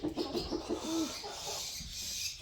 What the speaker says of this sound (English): Lots of the birds are going to sleep.